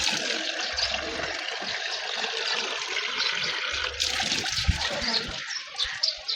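Water is poured over garden plants in the morning, with a continuous splashing and trickling close by and a few brief louder spatters.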